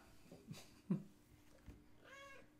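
A cat meowing indoors, a few quiet, short mews spaced apart, the last one a longer drawn-out meow, faint against a quiet room.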